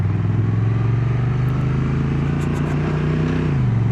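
A 2025 Honda NT1100 DCT motorcycle carrying two up pulls away, a steady close engine drone with a slight dip in pitch near the end as it shifts from first to second gear.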